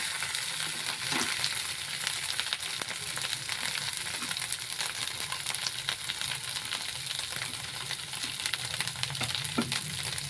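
Chili powder frying and being stirred into fish curry with taro, a steady close sizzle and crackle of hot oil throughout with faint scraping of the stirring.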